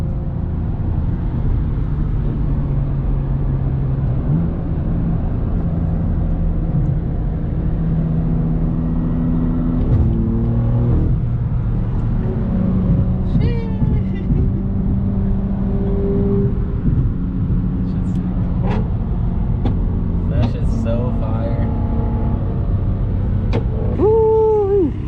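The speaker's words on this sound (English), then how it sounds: "you can hear Sebastian's car, fucking loud ass E92 M3" A BMW E92 M3 drones loudly and steadily throughout, a continuous engine roar with shifting pitch as the car drives along in a caravan heading to a car meet.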